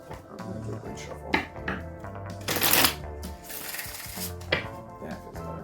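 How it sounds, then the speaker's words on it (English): Tarot cards being shuffled by hand, a close, continuous riffling and flapping with a brief louder cascade in the middle, under faint background music. "I'm going to do a great shuffle."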